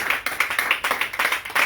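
Congregation at a church service clapping together in quick rhythmic bursts, close and lively, with no talking over it.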